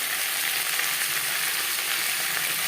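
Potatoes fry in a pan with tempering spices for a Bengali hilsa curry with aubergine, a steady, close sizzle running without a break and with no voices.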